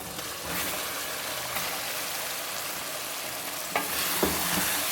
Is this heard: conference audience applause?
no